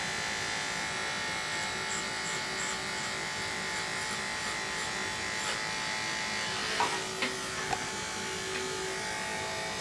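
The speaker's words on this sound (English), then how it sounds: "So now, I'm gonna cut my clippers off" Electric hair clippers buzz steadily at close range during a haircut, with a few faint clicks and brief handling sounds near the end and no talking.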